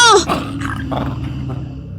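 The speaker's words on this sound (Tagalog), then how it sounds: "May malaking aso dito!" A large dog growls low and close, opening with a sharp whimpering yelp before a rough sustained rumble continues alone.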